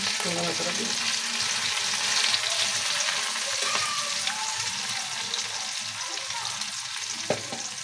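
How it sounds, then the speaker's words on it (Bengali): Chopped chilies and onions frying in a pan, giving a loud, continuous close-up sizzle with intermittent scraping from stirring and one sharp clink near the end, with no voices. "যখন মরিচ পেঁয়াজগুলো ভাজা একটু লালচে ভাব হয়ে আসবে"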